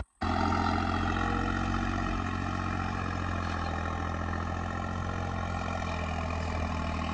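A tractor engine runs steadily on a Punjabi farm, with a loud, continuous diesel drone and clatter close by. The sound starts abruptly and holds unchanged throughout.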